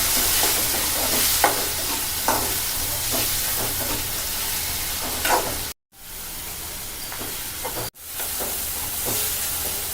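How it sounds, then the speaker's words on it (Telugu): Spoon stirring chukkakura (sorrel leaf) and tomato curry with turmeric in a hot pan. The scraping comes in steady, repeated strokes over a constant sizzling hiss, close and fairly loud, with two brief silent breaks. "అంతా ఒకసారి కలుపుకుందాం"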